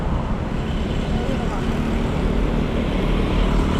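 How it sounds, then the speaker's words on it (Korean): A dense, continuous roar of heavy traffic as a military truck rolls past on a Jakarta street, loud and close throughout with a low engine rumble beneath, and people talking over it. "군대차 들어간다"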